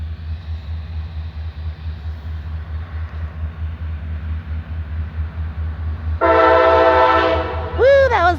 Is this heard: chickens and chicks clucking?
no